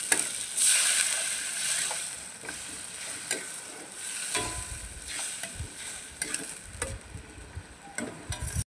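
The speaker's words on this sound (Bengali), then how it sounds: "জল দিয়ে ভালো করে আর একটু মশলাটা একটু ভালো করে কষিয়ে নেব।" Curry spice paste for egg kofta curry, loosened with a little water, sizzles steadily in the pan while a spatula scrapes and taps now and then, close and fairly loud, without any talking.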